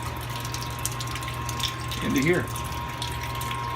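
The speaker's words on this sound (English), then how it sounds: "Alright, we're still doing the sparge here." Sparge water running slowly during an all-electric beer brew day, heard as a steady trickling flow under a constant electric hum, with a brief spoken phrase over it.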